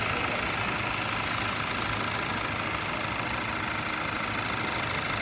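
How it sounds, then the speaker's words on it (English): A car engine idles roughly with its cam position sensors unplugged, a loud, steady, close mechanical drone with a faint uneven knock underneath and no voices. "The engine is running a little more roughly."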